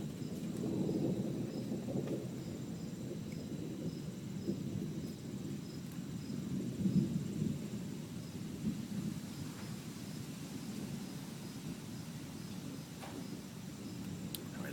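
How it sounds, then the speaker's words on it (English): Thunderstorm with lightning flashing overhead, a steady low rumble of thunder rolling continuously through the whole stretch, fairly distant and even, with no voices. "this seems like the mother of all storms"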